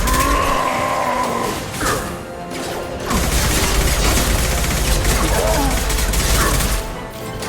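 Heavy bursts of gunfire and impacts from a Mass Effect 2 battle fill the scene loudly and almost without pause, with a brief dip in the middle and combat voices shouting over the shooting.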